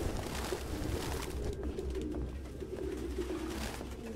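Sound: pigeons cooing in the video game Detroit: Become Human

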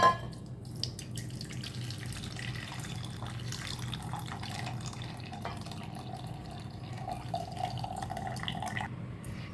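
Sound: draining water from boiled horse gram

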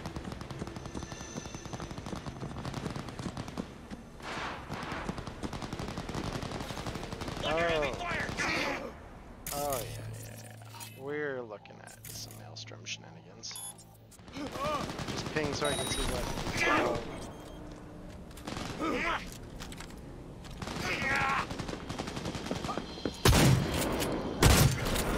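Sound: gunfire heard in distance in Cyberpunk 2077 video game

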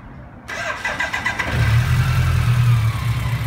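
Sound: BMW motorcycle engine starting

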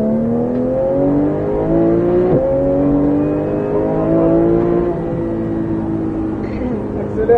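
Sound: Porsche 911 GT3 engine accelerating at full throttle

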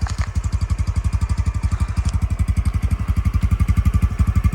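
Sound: scooter engine running

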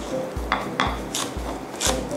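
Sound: chopping vegetables with a knife for fried larb

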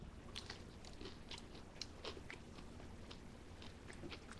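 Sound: biting crunchy garlic parmesan chicken thigh nuggets

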